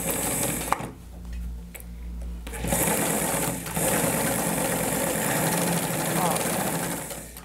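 A Singer 247 sewing machine runs a straight stitch with an unusual bobbin setup, giving a steady, close mechanical whir and rapid needle chatter that continues for several seconds after a brief pause.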